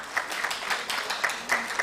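Audience applause at a university event, a brief burst of many people clapping at moderate volume, with sharper individual claps popping out now and then.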